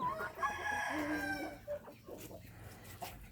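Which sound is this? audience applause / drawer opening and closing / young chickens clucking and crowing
young chickens clucking and crowing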